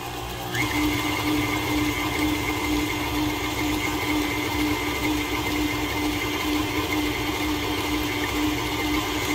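Electric hand beater whirring steadily through a thick batter of M&M, peanut butter and chocolate chip bar dough, a loud continuous motor drone starting abruptly and holding even throughout, with no talking.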